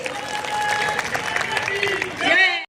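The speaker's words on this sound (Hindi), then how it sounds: "एक बार जोरदार तालियों के साथ स्वागत कीजिए।" Audience applause welcoming a guest speaker at a large Hindu conference in Badgaon, Udaipur, with an amplified voice and reverberant tones heard alongside, ending with a brief swell before cutting off.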